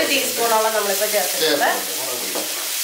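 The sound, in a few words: Kashmiri chili added to egg bhurji frying in pan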